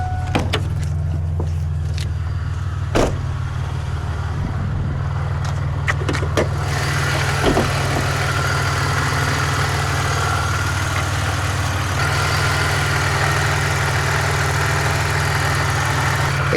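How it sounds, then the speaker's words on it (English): A car engine idles with a steady low hum throughout, punctuated by a few sharp clicks and knocks, no talking. "I feel like my engine is making noises."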